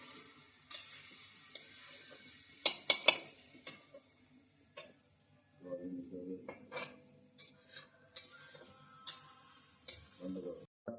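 Cauliflower and soybean chunks being stir-fried in a pan, with spoon scrapes and clinks against the metal, a couple of sharp louder knocks, and a light sizzle in between, close and fairly quiet.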